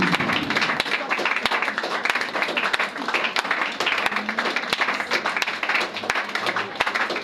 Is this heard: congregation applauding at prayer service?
yes